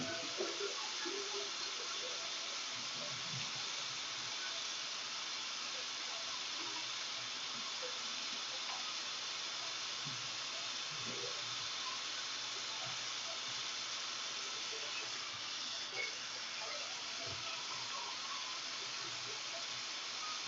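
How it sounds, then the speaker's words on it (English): Running tap water at a sink while hands are washed, a steady close hiss of flowing water with faint splashes and rubbing throughout, no talking. "After it's been thrown away, I will then wash my hands."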